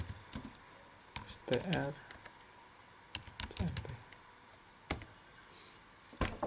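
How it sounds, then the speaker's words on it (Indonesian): Computer keyboard typing in scattered bursts of clicks, close and fairly quiet, while someone speaks over it. "Coba kita ketik help"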